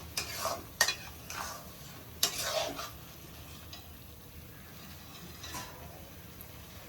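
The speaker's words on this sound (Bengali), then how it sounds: "জলটা দিচ্ছি এবারে।" Water goes into a pan of shrimp malai curry as it cooks, with soft sizzling and bursts of stirring and scraping against the pan, the clatter rising and falling before settling into a quieter simmer.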